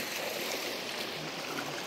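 River water of the Sindphana streaming steadily past swimmers in a rural stretch, a continuous broadband rush with no breaks, moderately close and alone.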